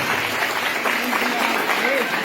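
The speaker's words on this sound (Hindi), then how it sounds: "प्लीज एक बार आप जोरदार ताली" A school crowd gives loud, continuous applause for a child's performance at a headmaster's farewell, a dense, even wash of clapping with faint voices underneath.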